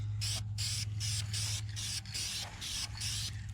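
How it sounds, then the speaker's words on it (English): Paint sprays onto an M105A2 military trailer in even coats, close hissing bursts of about half a second repeating steadily over a constant low hum. "we're just going to do some nice even coats over it"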